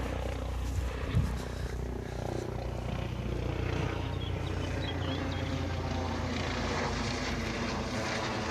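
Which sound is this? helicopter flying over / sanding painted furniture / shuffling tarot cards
helicopter flying over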